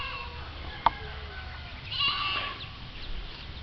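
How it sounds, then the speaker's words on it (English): Goats bleating on a farm with long grass running down to a river, a short sharp call standing out above steady outdoor background noise, followed by fainter, higher bleats further off. "The goats are all over."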